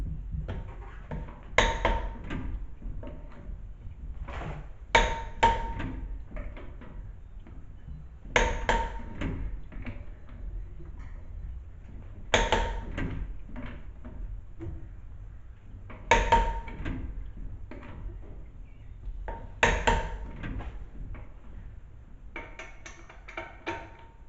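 A torque wrench tightens lug nuts to 150 foot-pounds on a 2020 Ford F-150, with clicks and metallic knocks repeating every few seconds among softer handling clatter close by.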